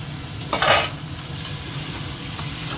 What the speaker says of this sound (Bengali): এবার একটু কষিয়ে নিই